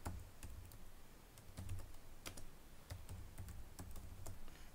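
Close, quiet keystrokes on a computer keyboard as a command is typed into a Windows command prompt, a quick irregular run of individual clicks with short pauses between bursts.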